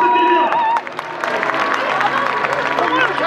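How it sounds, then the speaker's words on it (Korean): Crowd at a home-opener football match in Paju clapping and cheering after a speech, with a dense burst of applause mixed with babble and a voice over a loudspeaker. "다시 한번 박수"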